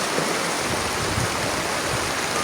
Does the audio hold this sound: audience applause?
no